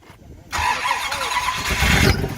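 A car engine at a street rod event bursts into a loud, sustained roar at full throttle after a brief quiet moment, holding strong and close for about two seconds.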